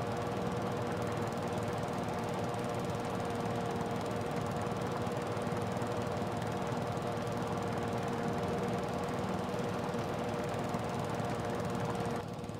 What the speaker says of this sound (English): This Kubota really mows quite fast here, 10-11 miles per hour.